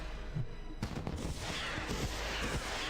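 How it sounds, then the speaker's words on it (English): Fireworks set off in the World of Warcraft video game, a dense run of crackling, popping bursts with sharp transients spread across the whole stretch, loud and continuous without any talk over them. "Let's do some fireworks."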